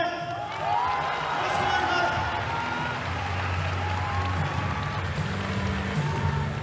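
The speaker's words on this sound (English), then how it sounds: "So yeah, the crowd seemed pretty happy." An arena crowd at a hybrid wrestling MMA event cheers and roars in a sustained wash of noise, with an announcer's voice carrying over the crowd.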